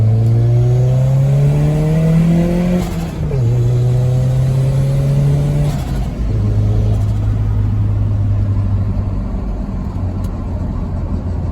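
A truck with 2.5-inch side-exit exhaust and twin Flowmaster FX turbo mufflers revs repeatedly, its loud deep engine note rising and falling in close, sustained pulls with a low rumble between.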